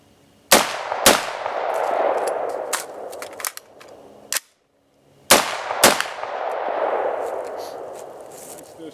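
Gunshots at an outdoor shooting range: several loud, sharp shots in two groups, each with a long ringing echo, close to the listener and separated by a brief quiet pause.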